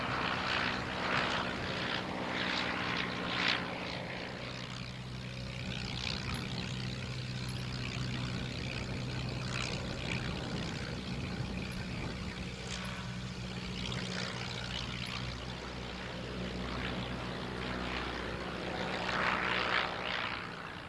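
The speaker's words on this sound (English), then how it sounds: "some photographs of some great aeroplanes in the sunshine" A propeller aircraft drones steadily at a distance at an evening air display at Shuttleworth, its engine noise holding fairly even throughout with no voices.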